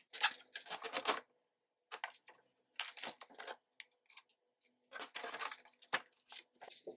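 Crisp cutting and slicing noises as 65-pound cardstock is cut down into junk journal pages, heard as several close, dry bursts separated by short pauses.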